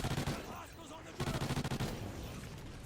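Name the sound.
gunfire with basic ammo in Call of Duty video game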